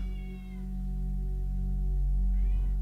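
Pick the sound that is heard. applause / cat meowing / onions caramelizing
cat meowing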